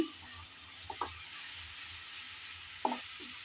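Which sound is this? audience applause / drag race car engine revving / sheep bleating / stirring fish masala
stirring fish masala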